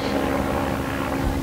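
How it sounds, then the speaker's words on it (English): A helicopter comes in to land at a medical clinic near a ballpark, its steady, fairly loud rotor and engine drone filling the moment without pause and with no voices over it. "Chopper coming into land at the Marshfield Clinic."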